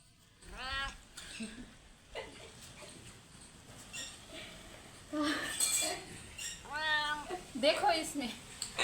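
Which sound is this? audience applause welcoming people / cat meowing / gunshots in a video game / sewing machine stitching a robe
cat meowing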